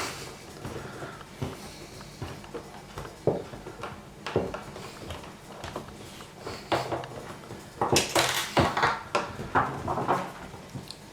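Lid being removed from a Philips DVD player's metal casing: a run of close, sharp clicks, scrapes and light metallic clatters, irregular and growing busier and louder toward the end, with no talking.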